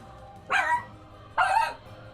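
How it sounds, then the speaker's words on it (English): A pet dog barks twice nearby, two short sharp woofs about a second apart, with quiet room tone between them. "Bark, bark, bark, bark. 1 second. My dog's being..."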